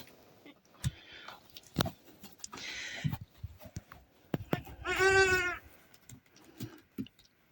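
A goat gives one clear, wavering bleat midway through, close by, among scattered clatters, thumps and rustling in a quiet indoor space.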